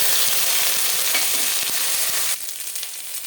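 Onions frying in a pan with ginger-garlic paste for a fish kalia: a loud, dense, steady sizzle with scattered stirring clicks, easing to a softer hiss near the end.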